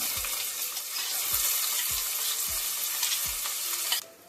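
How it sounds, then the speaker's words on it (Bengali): Chopped onions fry in a pan with whole cardamom, cinnamon, cloves and peppercorns for Kabli pulao, a steady loud sizzle punctuated by a few soft scraping stirs, no talking. "পেঁয়াজগুলো ভাজা হয়ে গেছে"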